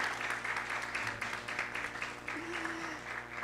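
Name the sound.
audience applause at graduation ceremony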